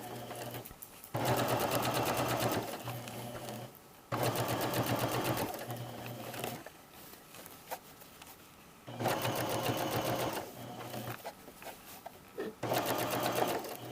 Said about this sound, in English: This machine has a button I can push to make sure the needle's down every time I stop.